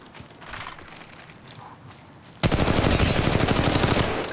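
Rapid automatic gunfire bursts out loud and sustained in Apex Legends Mobile, a close, rattling volley that follows a quieter stretch of footsteps and ambient game noise.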